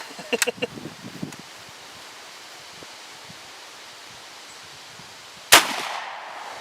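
A single loud, sharp gunshot from a 50-70 Government Remington Rolling Block rifle cracks near the end and rings off briefly, after a few softer knocks and clatters in an otherwise quiet outdoor space.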